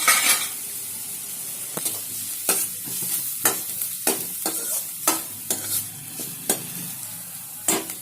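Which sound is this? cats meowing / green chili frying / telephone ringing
green chili frying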